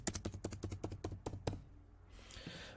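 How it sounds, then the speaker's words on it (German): Rapid keystrokes on a computer keyboard as a phone number is typed in, about a dozen crisp close taps in quick succession over a low hum, then the typing stops and only faint room noise remains. "ich könnte jetzt hier meine Telefonnummer eintippen"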